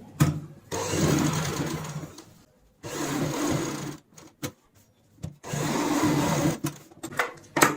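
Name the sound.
sewing machine stitching a cushion cover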